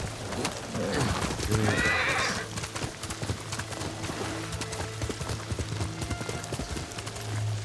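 A horse in the video game Ghost of Tsushima gallops with quick, steady hoofbeats and lets out a loud whinny near the start, all over a constant game background with faint bird coos.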